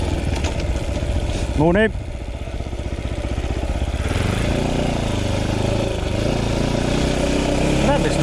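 An off-road motorcycle engine runs steadily and close by on a sandy trail, holding a low rumble through the whole stretch while someone talks over it.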